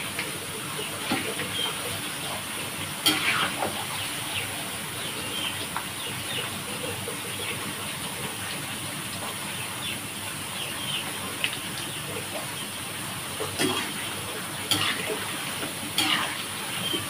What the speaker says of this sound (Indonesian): suaranya sudah menggesek-gesek, itu tandanya sudah kering